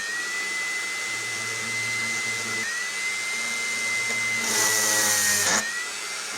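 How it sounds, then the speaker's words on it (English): A power drill whirs steadily as it bores holes during a Stirshurst engine build, with a steady tone that dips once and a brief louder, harsher burst near the end, close by with no talk. "this drill is really sharp"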